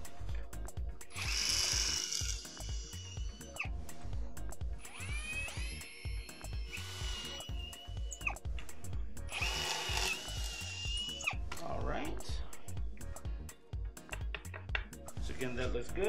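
A power drill enlarges the middle points of pre-cut holes in a DIY camera slider, whining up in several short bursts of a few seconds each, close and fairly loud, with handling clatter between runs.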